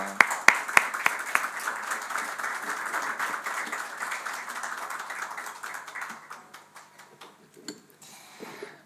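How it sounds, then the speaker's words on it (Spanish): Audience applause in a church Sunday service welcoming a guest preacher, a steady room-filling patter of many hands with a few sharp nearby claps at the start, thinning and fading toward the end. "a quien recibimos con un fuerte aplauso"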